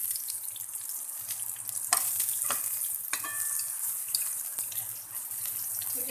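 Brinjal slices frying in hot oil in a pan, a steady close hiss of bubbling oil broken by a few sharp clicks and spatters, moderately quiet and without speech.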